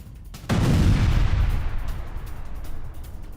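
Explosion striking a high-rise residential building in Beirut during an Israeli attack on Hezbollah positions, one sudden heavy blast that rolls and rumbles for several seconds before slowly fading.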